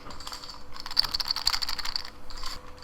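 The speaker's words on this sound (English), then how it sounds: "It sounds kind of loose, it feels a little loose, and it kind of sounds jiggly." A 3x4x5 puzzle cube being turned by hand gives a quiet, close run of loose, jiggly plastic clicks and rattles, in bursts over a few seconds.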